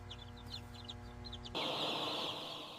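Chickens in a brooding flock cluck in short repeated bursts over a steady hum, then a broad hiss takes over partway through.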